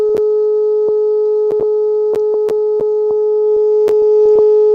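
WhatsApp call ringing tone on an unanswered call: a steady electronic tone holds throughout, with faint clicks and small taps over it and no talk.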